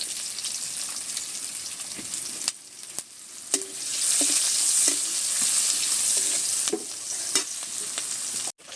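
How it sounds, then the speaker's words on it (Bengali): Chopped onion frying in a wok with oil, dried red chillies and cumin, stirred repeatedly: a continuous close sizzle broken by sharp clicks of a spatula against metal, with no talking. "পেঁয়াজটাকে হালকা করে ভেজে নিয়েছি।"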